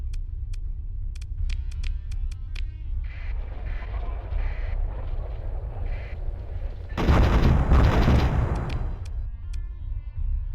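Orbital batteries firing in a large video game space battle: a steady low rumble with scattered sharp shots early, then a loud, dense burst of blasts midway before it settles back to the rumble.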